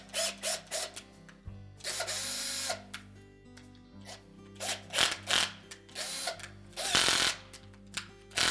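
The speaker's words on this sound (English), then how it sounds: "run those screws into the screw holes just to cut a thread" A screwdriver turns screws into the plastic housing holes of a Whirlpool washer water inlet valve to cut threads, giving short bursts of ratcheting, grinding and clicking in an uneven rhythm, close and fairly quiet.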